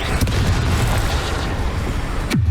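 Blasts from the Confringo explosion spell in the video game Hogwarts Legacy, with a heavy rumbling boom throughout and a sharp crack near the start and again near the end that drops into a low, fading whoosh.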